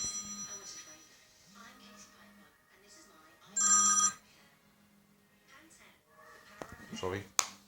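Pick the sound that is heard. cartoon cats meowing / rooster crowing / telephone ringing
telephone ringing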